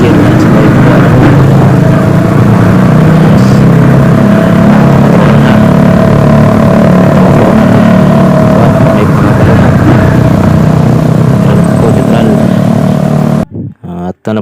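A vehicle engine drones loud and close as it is driven through gears without using the clutch, a continuous rumbling roar that falls away in brief dips near the end.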